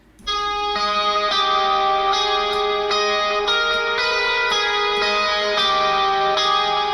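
Electric guitar sustaining bright, layered chords through a tape-style delay with a little reverb, each strum blooming into echoing repeats, loud and close with no voices.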